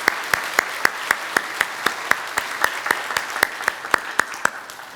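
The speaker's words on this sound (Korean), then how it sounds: "함께 환영의 박수로 함께 하겠습니다" A church congregation gives steady welcoming applause, with even, regular clapping close to the recorder that holds its pace throughout before fading slightly at the end.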